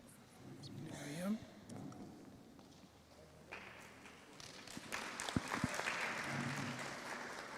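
An audience claps at a faculty of management and law annual research day, a loose patter mixed with voices talking over it and some shuffling and thumps.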